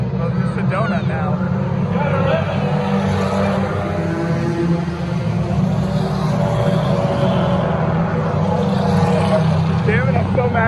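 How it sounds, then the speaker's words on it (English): An enduro race car spins a donut at a 200-lap enduro race, a loud continuous engine roar with revving that stays steady throughout, mixed with crowd noise and talk nearby. "Yeah, well, just a donut now."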